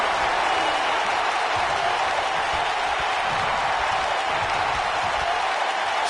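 Wrestling arena crowd roaring and applauding after a big move by Alexa Bliss, a continuous broad wash of cheering and clapping from a large audience, steady and loud without breaks.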